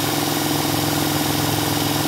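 A small engine fitted with electronic TCI ignition runs at a slow steady idle around 630 rpm, a loud close continuous throbbing with even rhythm and no talk.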